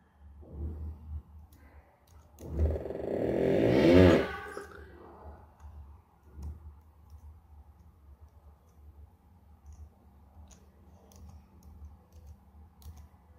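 Computer keyboard and mouse clicks while editing the Windows registry to bypass TPM checks, a dense burst of tapping in the middle surrounded by sparse, quiet single clicks.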